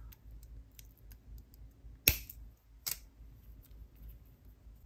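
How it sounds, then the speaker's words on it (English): Scissors snip off excess beading wire for a beaded choker necklace, giving two close, crisp cuts a moment apart in an otherwise quiet room. "Cut off the excess."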